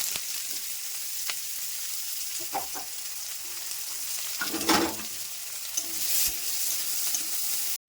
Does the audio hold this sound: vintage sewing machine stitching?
no